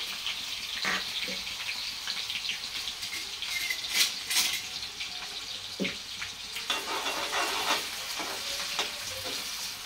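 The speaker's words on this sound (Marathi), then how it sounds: "आणि हा कांदा चांगला परतून घ्यायचा फुल गॅसवर" Chopped onion and curry leaves sauté in hot oil over a full flame for a Maharashtrian bangda fish curry, a loud, continuous close-up sizzle with scraping stirs and brief spatters throughout, no voices.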